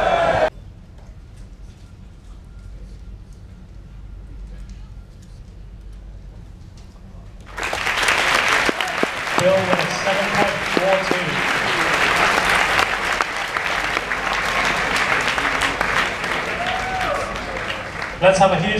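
At the 2017 World Rubik's Cube Championship, a quiet hall breaks into loud, sustained crowd applause and cheering that lasts around ten seconds, with voices mixed in.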